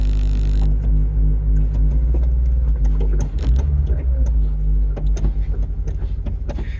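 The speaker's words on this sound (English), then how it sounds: "There's a little more noise coming through the engine bay." A Scion FR-S engine on newly installed, tightly fitted motor mounts drones loud and close from inside the cabin while driving, a steady low rumble with some pulsing and rattly transients.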